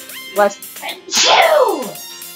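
A single loud, sharp sneeze bursts out after a few short vocal sounds, its noisy blast trailing off over about a second.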